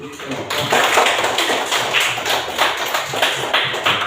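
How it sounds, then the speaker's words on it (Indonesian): Students in a classroom clap their hands in quick rhythmic bursts after a maths lesson, close and fairly loud, the pattern starting abruptly and continuing steadily. "Tepuk tangan dulu"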